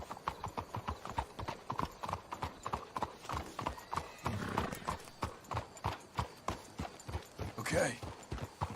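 Horses' hooves clip-clop in a steady, even rhythm on a trail in the Red Dead Redemption II video game, close and distinct, with a brief snort or whinny near the end and no talking over it.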